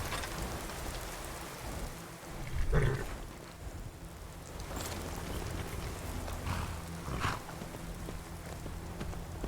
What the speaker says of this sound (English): there is still the slight issue with the rain